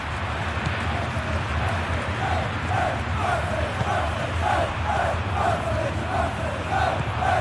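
A dense stadium crowd roars steadily at a Serie A match day in the PES 2021 football game, with rhythmic chanting swells rising and falling throughout, loud and continuous.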